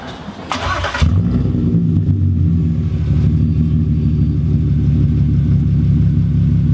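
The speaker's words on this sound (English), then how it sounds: "let's just quickly start the car up and give it a little rev" A loud VW Passat R36 engine with straight-piped exhaust cranks and catches after a second, then settles into a deep, raw, rumbling idle with a few blips of revving, very close.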